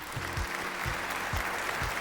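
A studio audience at a Pakistan Idol gala round applauds after a singing performance, giving a sustained wash of clapping with a few soft low thumps and no speech.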